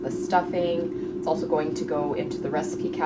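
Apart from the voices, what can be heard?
No distinct noise like a dog, phone or traffic.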